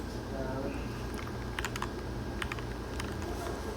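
Scattered key clicks from typing on a small computer keyboard, light taps in loose bursts over a low steady room hum.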